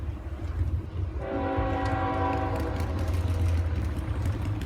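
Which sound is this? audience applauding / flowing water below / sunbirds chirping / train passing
train passing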